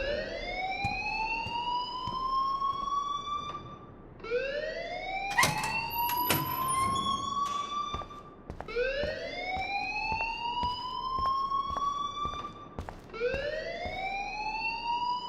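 A blaring electronic alarm in the video game Life is Strange sounds as a series of loud rising whoops, one after another in steady cycles, with occasional clatter mixed in.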